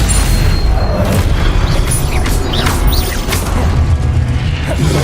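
Repeated Confringo fire-spell blasts and booming impacts from Hogwarts Legacy gameplay, loud and continuous with crashing, rumbling explosions layered over game music.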